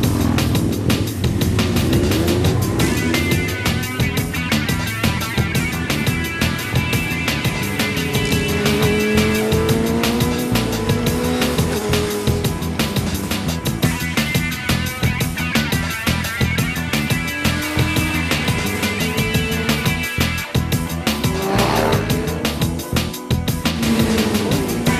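A motorcycle at speed on the Cadwell Park race track, its engine roaring continuously and loudly as it climbs and shifts through gears.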